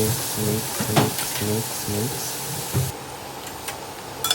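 Chopped onions frying on high heat in a pan, giving a steady sizzle while being stirred, with a voice speaking over the first half before the hiss carries on alone, joined by a few light scrapes.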